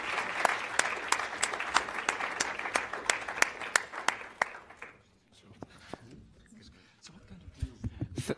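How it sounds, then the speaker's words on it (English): Applause from a conference audience at a business panel on energy in Africa rings out as a few seconds of brisk clapping with sharp individual claps, then fades as a speaker talks. "let's give a round of applause to the very stimulating and sincere answers"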